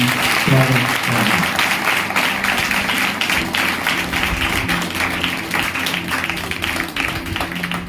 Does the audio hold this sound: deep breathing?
no